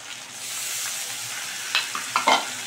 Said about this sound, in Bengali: সঙ্গে আমি একটু জলও অ্যাড করে দিচ্ছি, যাতে মশলাটা পুড়ে না যায় এবং খুব সুন্দরভাবে ফ্রাই হয়ে যায়।